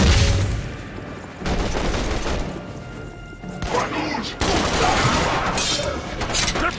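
Sustained automatic gunfire and heavy impacts from a sci-fi shooter battle against an armored alien Muton, loud bursts and crashes layered densely throughout, with shouted voices of squad members mixed in.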